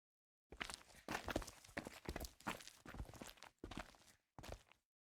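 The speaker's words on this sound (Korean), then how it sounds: "또 다른 발자국 소리가 들렸다" Footsteps approach in a Korean historical visual novel game, a steady run of discrete steps that grow and pause, fairly close and clear with no voices over them.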